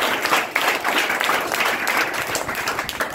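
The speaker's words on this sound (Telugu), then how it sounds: "ఒకసారి చప్పట్లు కొడతారా?" Dense, steady applause from an audience at a birthday celebration with cake cutting among orphaned children, continuous clapping filling the whole stretch at a loud, even level.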